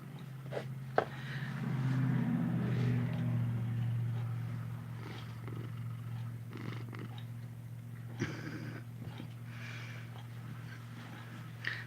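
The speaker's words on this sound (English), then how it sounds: "She just loves to purr." A cat purring steadily and close up, a continuous low rumbling purr lasting throughout with a few faint background clicks and noises.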